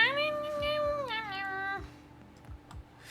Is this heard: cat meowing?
yes